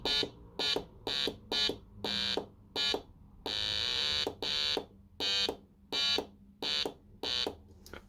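A breadboard electronic sound kit from an advent calendar plays a stable oscillator tone in a run of about a dozen short, loud beeping bursts, mostly evenly spaced with one longer sustained note midway, no talking.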